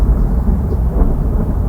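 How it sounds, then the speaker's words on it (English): A distorted jet fighter roars past, a steady low rumbling wash of noise with no distinct peaks, loud and continuous throughout. "does that sound more like the distorted sounds of a jet fighter going by rather than a tornado?"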